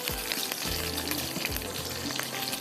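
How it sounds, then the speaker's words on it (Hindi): About ten to twelve green chilies fry in hot oil, a dense continuous sizzle with a few low knocks as they shift, close and steady over a short stretch, no talking. "थोड़ा सा इसको आपने फ्राई करना है"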